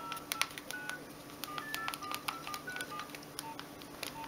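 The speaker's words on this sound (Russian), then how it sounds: "Здесь можем набирать вызов." A series of short electronic keypad beeps from a Nokia 1202 mobile phone dialing, irregularly spaced, each a brief tone as buttons are pressed, over a quiet background hiss.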